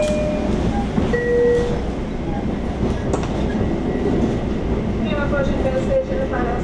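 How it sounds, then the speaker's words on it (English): A commuter train rolls into Woodside station with a loud steady rumble and a rattle of cars, thin brake squeals rising over it, and a voice speaking briefly. "This is the train"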